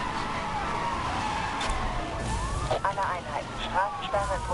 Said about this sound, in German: ich habe hier so eine Sirene an und so